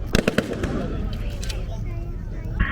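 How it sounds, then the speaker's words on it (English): Gunfire and explosions from a 1940s-weekend battle re-enactment, with a quick cluster of sharp bangs at the start, scattered lighter pops afterward and another burst near the end, while someone talks over the action. "Just a bit more shooting from there."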